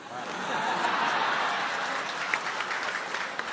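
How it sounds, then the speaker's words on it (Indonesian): An audience at a public question-and-answer session with Anies Baswedan breaks into steady applause, a broad wash of clapping that swells and holds, with faint chuckles underneath. "Kita berikan tepuk tangan pada serangan rapid fire"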